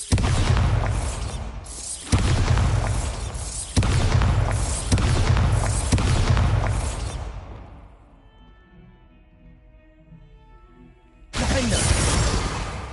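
Bombarda explosion spell in Hogwarts Legacy, a run of heavy booming blasts in quick succession, loud and close, then a quieter lull with tonal ringing before another strong burst hits near the end.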